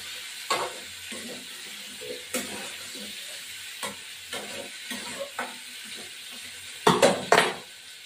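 Potatoes fry in a pan in a home Bengali kitchen, a soft steady sizzle under intermittent sharp clinks and scrapes of a utensil stirring against the pan, with a cluster of louder knocks near the end.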